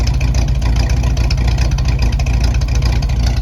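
A Lancia Flaminia engine, newly fitted with a Wosp starter and left standing for over a month, runs close by with a loud, steady, throbbing low rumble that does not change throughout.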